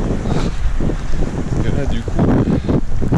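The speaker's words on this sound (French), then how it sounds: "il fait un peu plus frais, un peu plus de vent" Wind buffets the microphone on a mountain trail, a rough continuous rumble under someone speaking.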